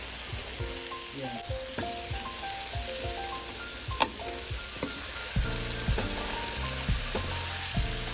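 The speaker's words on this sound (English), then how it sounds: "Adding the marinated soya, cauliflower and tomato." Marinated soya chunks, cauliflower and tomato hit a hot pan with a steady close sizzle, broken by clinks and scrapes of a utensil against the pan and one sharp knock near the middle.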